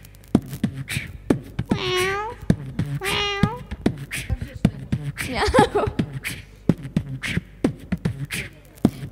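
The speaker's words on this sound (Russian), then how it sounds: "Мяу. Мяу. Мяу." Two rising-falling meows from a cartoon stand out early, then more mewing calls, with a person reciting rhythmically around them and light tapping sounds.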